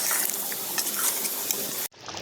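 Water poured into a large cooking pot used for a big batch of chicken biryani, a close, hissing splash with sizzling that runs steadily and then cuts off abruptly, followed by a softer lingering fizz.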